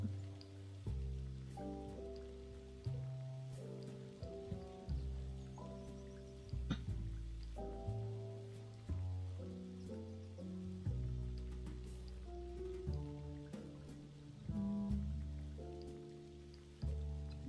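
Steady rain falling in Disney Dreamlight Valley, a soft continuous patter heard under gentle melodic background music, with no talking.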